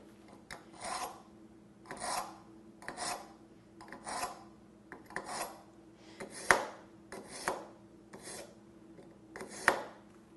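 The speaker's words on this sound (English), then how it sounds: "run this knife through anywhere between 5 to 10 times on the coarse, and because this is dull, I am going to go through the coarse and then through the fine" A dull kitchen knife is drawn repeatedly through the coarse and then fine slots of a knife sharpener, producing about ten evenly spaced rasping strokes, each a short scraping swipe with a slight metallic edge, close and clear with quiet pauses between.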